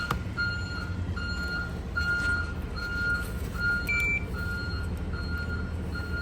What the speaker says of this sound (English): The backup beeper going.